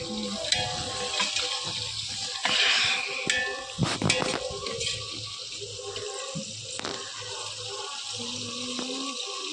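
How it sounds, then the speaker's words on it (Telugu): Water splashes and swishes steadily as rice is washed under a running tap, with occasional louder sloshes and clinks close by. "ముందు బియ్యం కడగడం"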